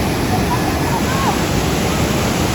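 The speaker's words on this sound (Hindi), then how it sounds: "नीचे ये बहता पानी" River water rushes below the Rakaposhi viewpoint in the mountains of Gilgit-Baltistan. It makes a loud, steady broadband roar with no breaks and may be mixed with some wind noise.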